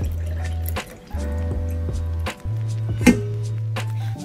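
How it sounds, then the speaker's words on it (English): Homemade oat milk poured into a bottle, liquid gurgling and dripping in bursts with brief pauses, close and clear with no talking. "Pour out the milk into a bottle."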